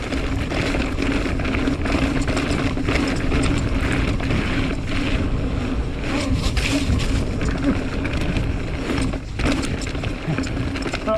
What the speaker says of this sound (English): Hopefully there's not splashes all over the camera now.